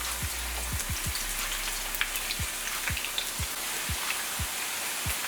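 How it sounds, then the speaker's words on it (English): Cassava chips frying in hot oil give off a steady, dense crackle and hiss, like rain on a surface, with a few soft low thumps scattered through it and no talking. "now that the oil is hot, I'm going to go in with my chips, so my cassava chips"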